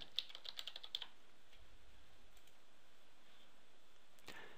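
A drawing name is typed on a computer keyboard in a short rapid run of crisp key taps, then a single click a few seconds later against a faint steady hiss.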